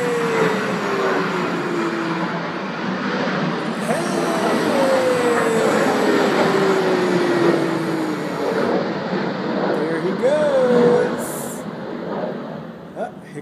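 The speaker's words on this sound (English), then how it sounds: "I think there's another plane coming in." An airplane on approach near the Sunabe sea wall in Chatan-cho, Okinawa, its broad engine roar holding steady through the clip beneath a wide wash of outdoor noise, with a slowly falling whine tracing its descent.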